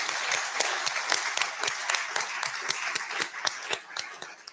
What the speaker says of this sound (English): please give a round of applause to these amazing people